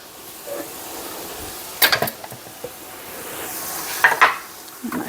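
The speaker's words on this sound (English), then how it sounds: "the meat cooking over here, it's looking really good" Taco meat cooks in a pan with a faint steady sizzle, broken by a few brief scraping and clinking knocks of utensils against the pan, near and without talk.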